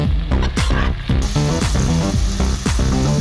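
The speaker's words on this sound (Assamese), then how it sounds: "এনেকৈ ধুনীয়াকৈ ভাজি ল'ব লাগিব" Rice being fried in a pan for veg pulao, with a steady close sizzle and a regular series of stirring scrapes as the grains are turned over and over.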